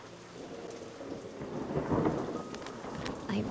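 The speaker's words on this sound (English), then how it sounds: "sounds like another storm's rolling in" Thunder rumbles low and builds over steady rain falling on surfaces, a stormy wash that swells toward the middle and stays loud.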